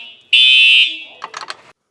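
A loud shrill electronic alarm sounds in one sustained piercing tone, then drops away into a few quick broken bursts before cutting off, close and harsh.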